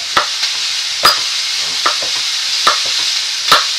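A pan deglazed with lemon juice and crème fraîche is stirred, giving a continuous loud sizzle with sharp spoon clicks against the pan about once a second, close up and with no voices.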